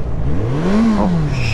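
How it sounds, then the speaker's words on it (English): A car accelerates hard while shifting up into third gear on a track, the engine note climbing and peaking before dipping as the next gear engages, loud and close throughout with no talk. "get up to third gear"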